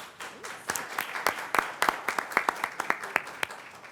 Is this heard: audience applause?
yes